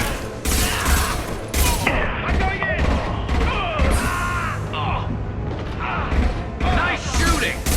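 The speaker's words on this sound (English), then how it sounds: "Firing concussive shot!" Concussive shot fired in Mass Effect 2 combat, sharp mechanical blasts and bursts repeating amid gunfire and clanks, with voices talking over the action.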